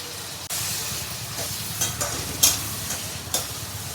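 Broad beans (chikkudukai) frying in a pan for a curry, with a steady close sizzle and occasional louder pops and stirring scrapes throughout, no voices.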